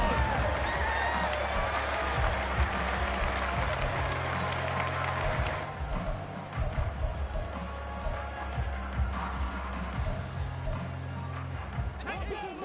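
Stadium crowd at an American football game, a broad roar of applause and cheering heard from a distance, loud at first and easing after about six seconds, with a commentator talking over it throughout.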